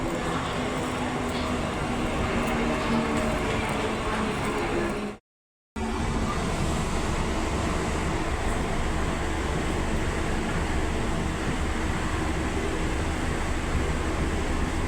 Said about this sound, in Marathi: आता ही ट्रेन सुटली आहे महालक्ष्मीवरून